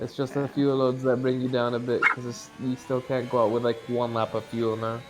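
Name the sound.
dog barking in the background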